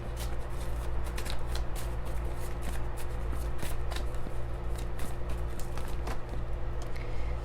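Tarot cards being shuffled close up, a continuous riffling flutter with quick repeated snaps and slides that keeps up steadily throughout.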